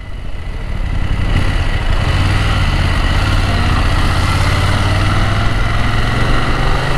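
A BMW F900 GS motorcycle engine runs steadily at idle close by, a loud, even throbbing hum that swells in the first second and then holds constant with no talking.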